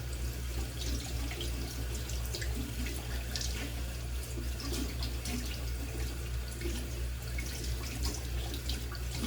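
Shaving brush rinsed under a running tap, a steady close rush of flowing water with small splashes and drips, continuous and fairly quiet, no talk.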